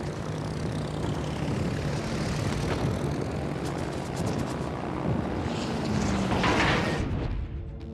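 Fighter plane taking off from an aircraft carrier in a naval video game: a loud, steady propeller engine drone rises into a swelling roar as it passes close, then cuts off abruptly at the end.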